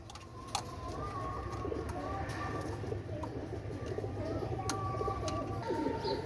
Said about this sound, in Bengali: এগুলো দেখেন একজোড়া ডাবলা কবুতার মাস্টার পেয়ার